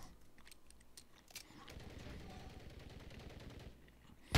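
Automatic MCW rifle fire in a first-person shooter video game, a dense burst of rapid shots swelling through the middle of the clip at moderate loudness, with no talk over it.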